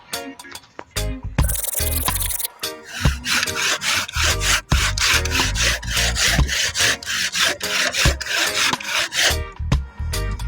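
A hand saw cuts through wood in steady, rapid back-and-forth strokes, loud and close, with a brief scraping start before the rhythm settles.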